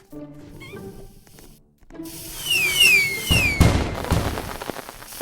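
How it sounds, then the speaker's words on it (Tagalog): Fireworks in the video game Grow a Garden whistle upward in several rising shrieks, followed by crackling bursts and popping, loud and close, after a stretch of quieter tones. "May fireworks din tayo, no?"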